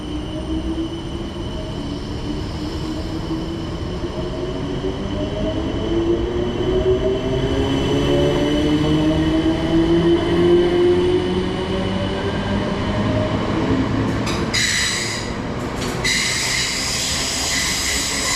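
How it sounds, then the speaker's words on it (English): A train at Richmond station in London rumbles and hisses at close range, its wheels squealing in rising and falling tones, with a brief burst of noise near the end and no voices. "12:19 service to London Waterloo"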